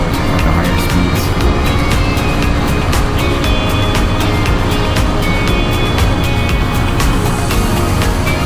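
A dirt bike ridden at about 60 mph across the Mojave Desert gives a loud, steady engine roar with rushing wind buffeting throughout, near and continuous with no pauses.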